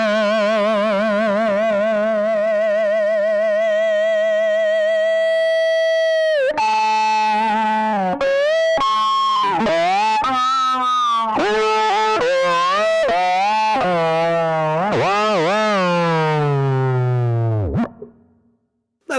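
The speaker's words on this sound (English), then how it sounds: "Let's try some distortion on this." A string instrument played through heavy distortion, starting with a sustained wavering note, then a run of gliding, buzzy phrases before cutting off.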